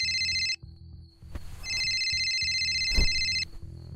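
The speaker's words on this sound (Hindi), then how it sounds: "इसी बीच विक्रांत सिन्हा को सीनियर इंस्पेक्टर अंगद का कॉल आता है" An electronic phone ringtone chirps with an incoming call in two bright, sustained bursts close by, separated by a short gap with faint soft background sounds.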